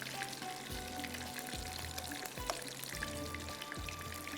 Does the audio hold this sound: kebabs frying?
yes